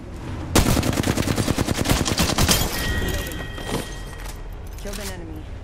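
Rapid bursts of automatic gunfire in Apex Legends, loud and close, with a steady rattling cadence that gives way to scattered shots and game effects.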